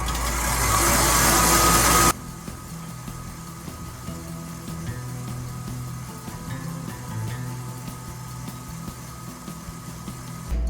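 A stand mixer whirs at high speed while butter is beaten into lemon cream, loud and steady for about two seconds, then drops to a low, quieter motor hum that runs on to the end.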